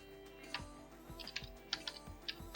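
Quiet bursts of keystrokes on a computer keyboard, light irregular clicks coming in short clusters over a low steady background hum.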